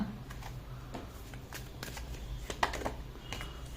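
Tarot cards being shuffled and drawn during a reading, a soft, continuous rustle and riffle of cards with a few sharper slaps, close by, with no voice.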